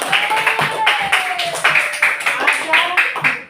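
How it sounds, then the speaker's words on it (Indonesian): A class of students claps together in a room, a short burst of rhythmic, fairly close hand claps with voices speaking over it. "tepuk tangan untuk kita semua"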